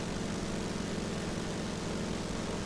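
Steady propeller aircraft engine drone from the RealFlight flight simulator, a large model plane in flight, holding a constant even tone throughout at moderate level with no talk.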